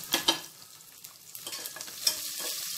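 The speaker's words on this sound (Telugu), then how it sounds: "వీటిని కూడా కాసేపు ఫ్రై చేసుకుందామండి" Chunks of onion fry in a pan while a spoon stirs them, producing a soft steady sizzle broken by several clinks and scrapes against the metal.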